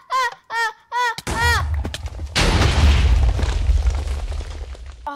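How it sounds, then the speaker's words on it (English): A pressure plate trap explodes in the Minecraft video game. Three short vocal cries come first, then a sharp blast and a second, heavier booming explosion with a long rumbling decay. "All I remember is there being a huge explosion"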